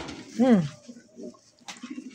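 A pair of Palla-line pigeons gives one clear, close, rising-and-falling coo, followed by softer faint murmurs.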